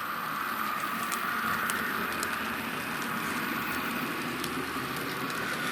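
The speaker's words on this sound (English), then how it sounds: "Wait for the train to pass, don't want to get run over." A train rolls past outdoors, giving a steady, continuous rumble and mechanical hum with faint high clicks and squeals from the wheels, moderately loud and unbroken throughout, with no voices.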